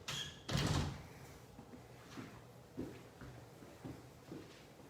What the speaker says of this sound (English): They're double bifold doors.